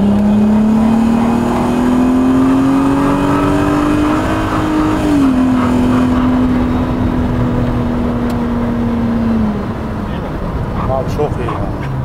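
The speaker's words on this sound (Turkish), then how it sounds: "Yani araba harbi gidiyor." A Mk2 Volkswagen Golf with a swapped R32 engine, four-wheel drive and DSG gearbox pulls hard, a loud continuous engine drone climbing in pitch with a short shift partway through, then easing off near the end.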